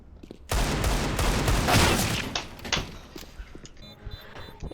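Video game gunfire erupts in a loud, dense burst of rapid shots lasting over a second, then fades into scattered sharper cracks and thuds.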